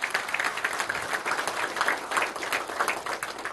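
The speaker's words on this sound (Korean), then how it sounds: "전체 같이 한번 박수를 부탁드립니다." An audience at a forum honoring about sixty field firefighters breaks into a round of applause, lively close clapping in uneven bursts that holds steady throughout, with no speech over it.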